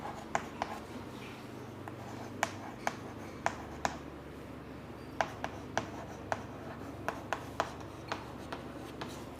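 Marker or chalk writing a chemistry equation on a board during a lesson, with irregular sharp taps and brief scratchy strokes coming in quick bursts, close and fairly quiet over a low room hum, with no speech.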